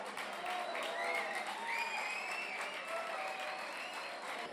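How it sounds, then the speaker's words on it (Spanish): An audience at a refugee-support gala gives sustained applause, a steady even wash of clapping with some cheering voices over it, heard from a moderate distance. "Un aplauso para ellas."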